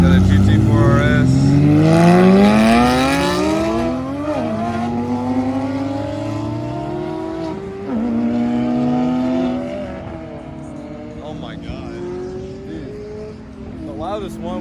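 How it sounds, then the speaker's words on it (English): A loud red Porsche and other cars pull out of a cars-and-coffee meet, engines revving through repeated rising gear changes and passing nearby, with people talking over the noise. "Loudest one was the flamboyant red Porsche. It's flamboyant and it's loud."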